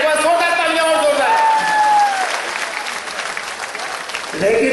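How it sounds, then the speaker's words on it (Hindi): A large audience at a poetry recital at Lal Qila breaks into loud applause, with a voice speaking over the clapping at the start and again at the end. "एक बार जोरदार तालियां और जोरदार"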